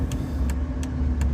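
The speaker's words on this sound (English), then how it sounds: "there's a car stopped in the middle of the road" Car engine rumble and road traffic on a busy downtown street in Long Sutton, a steady close motor drone with a vehicle sitting stopped in the road and faint repeated high ticks.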